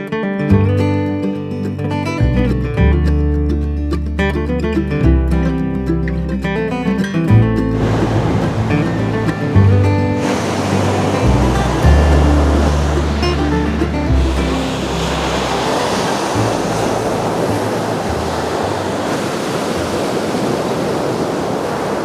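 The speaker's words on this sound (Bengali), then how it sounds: "এটাই হলো ওড়িশার পরিখী সমুদ্র সৈকত। কি উত্তাল গর্জন শুনেছেন তো" Sea waves roar at Parikhi beach in Odisha, a loud and continuous surf that swells and crashes steadily for the whole stretch, with no voices over it.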